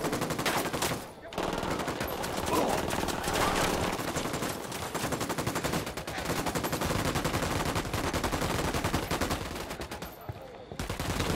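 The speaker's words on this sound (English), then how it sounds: "I'm shooting from down there." Rapid bursts of automatic gunfire ring out in Ghost Recon Wildlands, loud and dense, with repeated volleys broken by two brief pauses.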